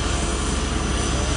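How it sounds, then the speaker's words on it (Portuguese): A loud, steady broadband roar of an airplane engine fills the recording with no break, heard up close as if from inside or right beside the aircraft on a family flight to Goiânia. "Avião."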